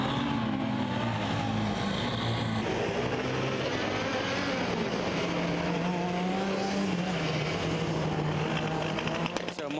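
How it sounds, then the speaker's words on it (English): A Formula Student race car stalled on the track during an endurance event restarts, its engine buzzing steadily and loudly throughout with shifting pitch, while a commentator talks over it. "So Marshall's approaching the car from Moscow, which restarts."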